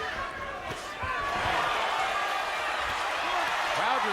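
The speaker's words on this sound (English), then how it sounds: "Crowd responds to the 2 big right hands." Boxing arena crowd reacting to two big right hands in a professional bout, a rising roar of many voices swelling in the background under a commentator's speech, with scattered thuds and shouts.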